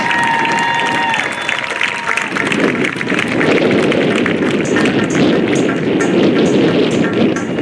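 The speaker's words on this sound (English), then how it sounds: "How about a huge round of applause for our first Golden Knight jumpers?" Airshow spectators applaud as US Army Golden Knights parachute jumpers land at the Great Texas Airshow, a broad, steady wash of clapping and crowd noise lasting throughout, with a few tonal whistles early on.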